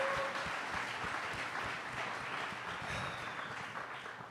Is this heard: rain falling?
no